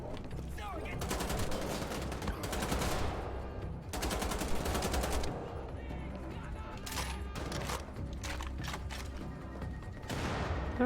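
Dual-wielded guns in Wolfenstein: The Old Blood rattle off in dense, rapid bursts. The loud volleys run almost continuously, with short breaks between the strings of shots.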